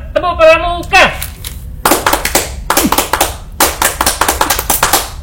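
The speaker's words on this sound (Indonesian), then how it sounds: "Coba tepuk pramuka." Group scout rhythmic clapping (tepuk pramuka) in patterned bursts, starting after a brief sung or called opening, with sharp clustered claps near and fairly loud.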